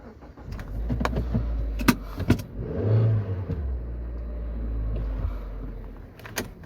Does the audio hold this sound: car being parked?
yes